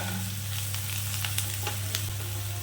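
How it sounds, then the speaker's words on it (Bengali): Chopped onions fry in a hot pan for potol bharta, giving a steady, close sizzle that holds through the whole stretch, with a few faint scrapes and clicks on top. "কমিয়ে বাড়িয়ে দু থেকে তিন মিনিট আমি পেঁয়াজটাকে ভালো করে লাল করে ভেজে নেব"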